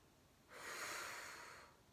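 A single long breath is drawn during a Pilates criss-cross ab exercise: one steady, airy rush lasting just over a second, close and fairly soft, with no voices.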